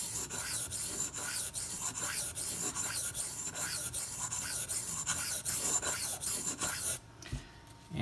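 Ganzo FH51 knife with a D2 steel blade being sharpened on a Razor Edge System angle guide, a steady run of close, gritty scraping strokes in an even rhythm that stops near the end.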